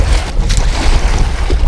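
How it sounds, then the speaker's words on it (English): Rough waves churn and wash against the shoreline while a carp is landed, with loud, continuous splashing and wind buffeting the microphone up close. "Waves are really bad."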